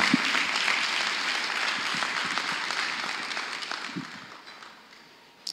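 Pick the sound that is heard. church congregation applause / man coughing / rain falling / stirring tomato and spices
church congregation applause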